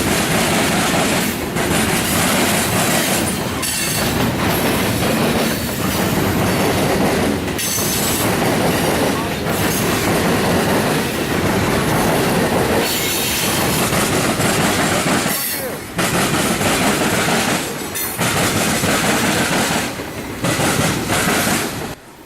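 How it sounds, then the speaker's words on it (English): A freight train rolls steadily past, loud and close, with a former Illinois Central Gulf flat car loaded with aluminum blocks; continuous rumble, clickety-clack of wheels over rail joints and occasional wheel squeal, no talking. "As this train continues to roll on by, note the former Illinois Central Gulf flat car coming by with aluminum blocks on it."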